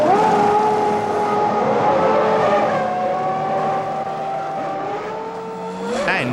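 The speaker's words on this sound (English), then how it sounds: "Hill is the first Williams to come in for tyres, but loses crucial seconds following Andretti's McLaren into the pit lane." Formula 1 cars from the 1993 season, including Williams and McLaren machines, driving through the pit lane, their high engine whine steady and loud for several seconds with harmonic tones shifting as cars pass and rev.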